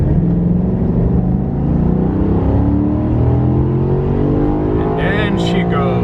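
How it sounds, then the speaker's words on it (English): A Ferrari sports car engine roars loudly and close, its pitch climbing steadily as it revs high and accelerates. "The thing with these Ferrari motors, you gotta rev them high in order to get the power."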